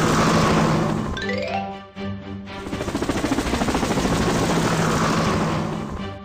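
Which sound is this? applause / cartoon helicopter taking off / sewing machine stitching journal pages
cartoon helicopter taking off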